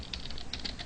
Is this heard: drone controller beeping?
no